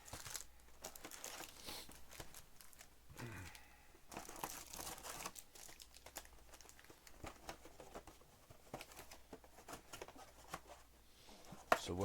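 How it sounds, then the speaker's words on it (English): Plastic wrap and cardboard on four sealed hobby boxes of 2024 Panini Prizm Baseball cards being sliced open and torn off, producing continuous crinkling, tearing and tapping at close range, with brief louder crackles near the end. "just going to cut all 4 boxes here"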